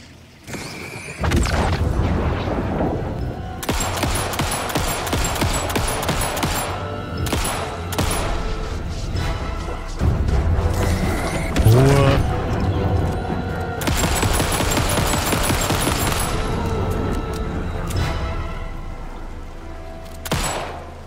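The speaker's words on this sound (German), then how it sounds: "Die Schüsse sind schon übelst laut" Gunfire in the video game Alan Wake 2, heavy repeated shots and booming blasts in dense overlapping volleys, very loud and nearly continuous with short lulls, alongside music-like tonal layers and no talking.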